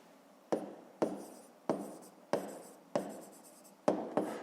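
Pen strokes on paper during a maths exercise: seven short, crisp scratches in an even rhythm, close and fairly quiet, with no voices.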